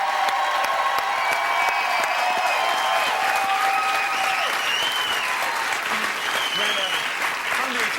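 An improv comedy show audience applauds steadily for the three improvisers, a dense, continuous clatter of clapping with some whistles and crowd noise running through it.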